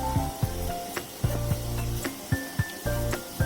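Mini gulab jamun fry in oil over a low-to-medium flame, a steady sizzle broken by repeated sharp knocks of a utensil stirring in the pan, close and moderately quiet.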